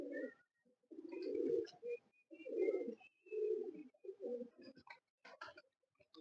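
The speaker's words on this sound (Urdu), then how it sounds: "یہ کبوتر کوئی عام کبوتر نہیں ہے" A champion racing pigeon coos close by in several low, rolling phrases with short pauses between them, followed by a few quick, softer chirps.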